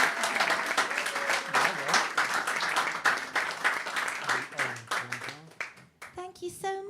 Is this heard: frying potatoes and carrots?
no